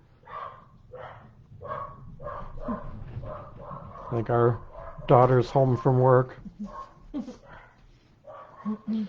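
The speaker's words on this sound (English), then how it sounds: "The dogs are barking like crazy." Dogs bark repeatedly nearby at an intruder upstairs, in uneven bursts with some yips and whines mixed in, while a person speaks over them.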